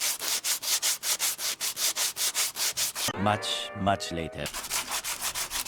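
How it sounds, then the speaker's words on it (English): Filler on a rusty Mazda Miata body is sanded with steady back-and-forth rasping strokes, close and rhythmic, briefly overlapped by a short spoken comment before the strokes continue. "This one we just have to get sanded down, get smoothed out so that we can put the next layer on."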